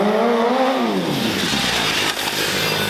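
A BMW stunt motorcycle of close to 200 horsepower revving hard while spinning around at a stunt show, its engine pitch rising and then dissolving into loud, rough roaring and tyre noise, close and alone.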